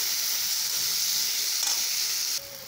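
Hog plums sizzle steadily in hot oil in a pan with salt and turmeric, stirred with a faint scrape, a continuous close frying hiss that drops slightly near the end.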